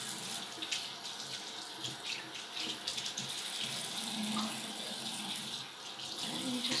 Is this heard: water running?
yes